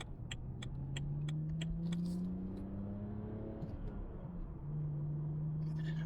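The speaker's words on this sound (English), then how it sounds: "If you're hearing the car engine," A car engine hums steadily while driving on the Isle of Man, a low droning tone rising gradually in pitch, with a few faint clicks early on and no talking.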